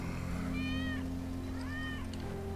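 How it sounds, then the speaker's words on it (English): Two drawn-out cat meows, one after the other, sound from inside the video game Final Fantasy 7, heard over a steady game soundtrack hum. "That's Wedge's cat."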